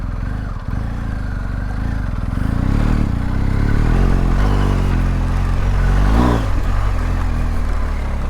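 A BMW R 1250 GS Adventure motorcycle engine on the move, a loud steady low drone with rising revs and wind rush, heard close with no speech.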